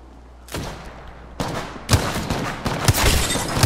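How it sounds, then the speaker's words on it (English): Gunshots in the battle-royale shooter Apex Legends: sharp bursts of gunfire arriving in quick clusters, growing louder and denser over a few seconds with no voices. "Shots fired."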